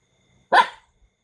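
A single dog barks once, loud and close: one short, sharp bark that fades quickly, with silence before and after.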